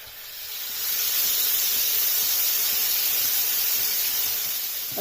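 Fish pieces shallow frying in lightly heated oil on a tawa give a steady, loud broadband sizzle and hiss that swells within the first second, then holds close and continuous with no talking.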